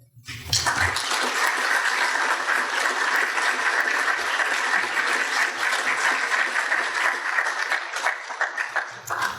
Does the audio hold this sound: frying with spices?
no